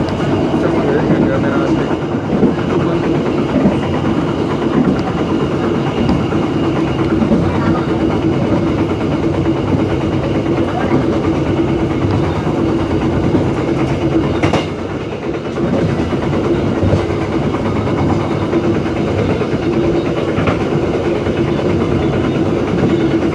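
Rails clatter steadily beneath the Dhoho passenger train on its run between Minggiran and Kediri stations in Indonesia. The rumble is loud, continuous and close, with a rhythmic clickety-clack and one brief jolt partway through.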